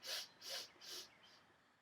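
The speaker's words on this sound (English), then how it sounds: "the inhale phase, which is in short sniffs, which gives it that staccato sound" Three short, sharp nasal sniffs in quick staccato succession, then a fainter fourth, as the inhale phase of a staccato breathing exercise, close and clear with no talking.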